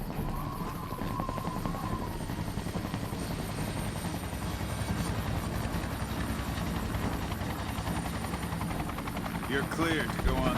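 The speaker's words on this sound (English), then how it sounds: "Looks like his vertibird is arriving early. Here it comes now." A vertibird aircraft from Fallout New Vegas arrives with a loud, steady rotor roar that holds the whole stretch, with speech faintly mixed in.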